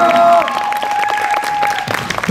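An audience at a youth salsa dance competition, an under-13 men's final in Turkey, claps for two dancers in a brief burst of dense applause, with a voice and a sustained musical tone running over it.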